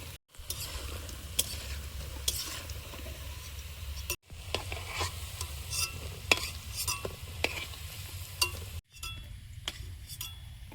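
Fish roe fritters frying in hot oil, a steady close sizzle broken by clinks and stirring scrapes, with two brief pauses in the sound.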